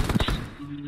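A quick cluster of video game gunshots cracks loudly at the start, then trails off into a ringing, fading tail in under a second.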